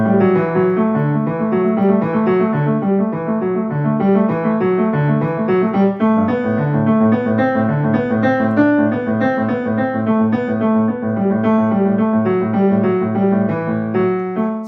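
Solo piano playing J.S. Bach's Prelude from Cello Suite No. 1, with steady flowing broken-chord figures of three-note groups around a lower neighbor tone, sustained and evenly loud throughout with no talking.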